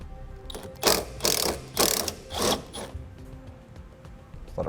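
A ratchet turns a T45 Torx screw holding the seat belt to the driver's seat of a 2017 Jeep, giving about five close, loud bursts of rapid clicking with short pauses between strokes and no talking.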